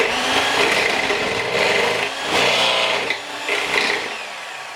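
Low-carb crumpet batter thickened with psyllium is whisked steadily in a bowl, giving a continuous close scraping and rubbing with brief pauses and no talk.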